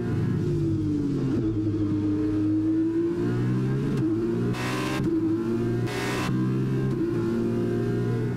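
A Formula 1 car engine in the F1 2021 video game, heard from the cockpit as if inside the driver's helmet, whines continuously with shifting pitch, sounding muffled and dull, broken by two short bursts of hissing noise.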